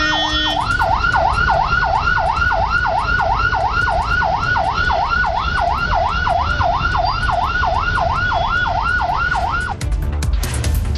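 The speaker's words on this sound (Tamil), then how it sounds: "ஆம்புலன்ஸ் ஒன்றும் நெரிசலில் சிக்கியது." An ambulance siren wails in a steady, rapid up-and-down cycle above the low rumble of heavy, jammed traffic near Maduravoyal, loud and continuous until it cuts off near the end.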